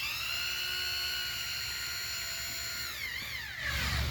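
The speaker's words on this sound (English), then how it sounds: "Put my hammer drill in non-hammer mode, drill some holes" A hammer drill in non-hammer mode whines steadily at high pitch, then its tone drops and wavers as the bit bites in, close and continuous.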